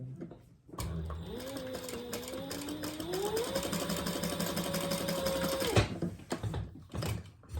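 A sewing machine runs steadily for about five seconds, stitching the card slots of a purple purse, its motor hum rising slightly in pitch as it speeds up before stopping abruptly.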